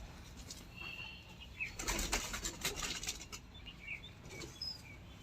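A brief flurry of pigeon wings flapping close by, a soft fluttering burst against a quiet outdoor background.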